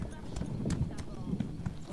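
Horse hooves clip-clopping steadily in The Elder Scrolls Online, a mount trotting alongside the player, heard under a voice talking over the rhythmic footfalls.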